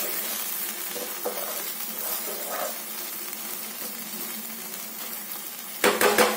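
Tamarind and raw prawn curry simmering in oil in a pot, a soft steady sizzle and bubbling close by, with a brief clatter of a utensil near the end.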